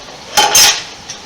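Metal tire spoon and bar set down on a hard surface during tire removal from a wheel, two close clinking clanks in quick succession followed by a faint lighter tap.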